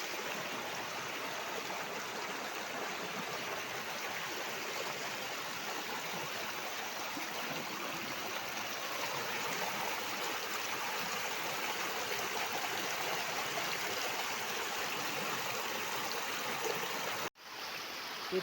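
A river in the Konkan flows steadily at a spot used for washing clothes, a continuous broad rushing and trickling sound at moderate distance, unchanging throughout, with no voices.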